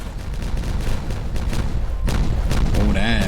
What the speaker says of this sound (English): So let's just quickly have this detonate.